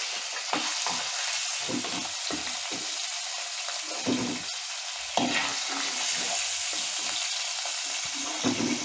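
Fish pieces frying in oil in a clay pot for fish curry, a steady close sizzle with soft bubbling and occasional stirring scrapes and clinks, no voices.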